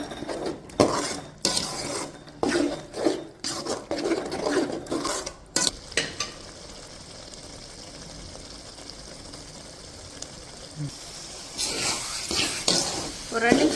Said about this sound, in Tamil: கைமா மசாலா ஒன்று சேர்கிற அளவுக்கு கிண்டி விட்டு ஒரு ரெண்டு நிமிஷம்னால இதை கொதிக்க விடலாம்